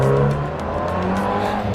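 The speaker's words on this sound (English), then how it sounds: "Ryan is now taking the Abarth out for a test drive around the block" A modified Abarth engine pulls away on a test drive around the block, a steady, loud drone of engine and exhaust held throughout with slight rises in pitch as it accelerates.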